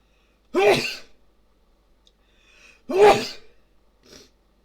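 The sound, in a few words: sneeze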